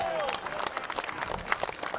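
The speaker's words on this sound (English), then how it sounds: "And that resulting in a big cheer." Spectators at a bowls national championship in Scotland cheer and clap after a well-played shot, a steady wash of applause and crowd noise lasting throughout.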